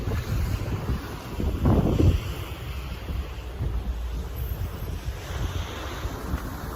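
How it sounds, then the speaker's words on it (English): Waves crash onto the shore on the Isle of Wight, a loud rolling surge mixed with heavy wind buffeting the microphone, with a stronger swell partway through. "you can hear the waves crashing behind us while we eat"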